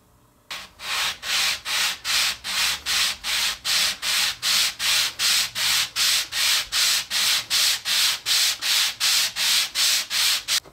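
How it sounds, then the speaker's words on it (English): Hand sanding wood with sandpaper glued to a block of 3/4 inch MDF to remove saw marks, a steady series of about twenty-two even back-and-forth rasping strokes, close and clear with no talk. "use a piece of sandpaper that's glued to a piece of 3/4 inch MDF and just lightly hand sand to take those saw marks away"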